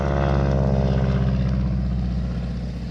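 A crop-duster airplane sweeps low over a house, its propeller engine a loud, droning roar right overhead that stays strong before easing slightly as it pulls away.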